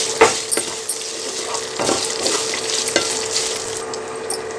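Green chillies and mint leaves sauté in oil with a soft, continuous sizzle, broken by several sharp utensil scrapes and clinks against the pan.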